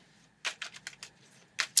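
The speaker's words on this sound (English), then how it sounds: "I just do a quick shuffle for the reading" Tarot cards given a quick shuffle, a string of crisp papery riffles in two bursts, close and fairly quiet with no talk.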